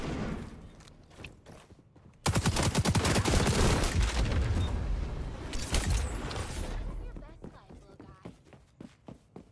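Rapid automatic gunfire erupts in the video game XDefiant, a loud sustained burst lasting several seconds that then thins into scattered shots and footsteps, with a player talking over the action.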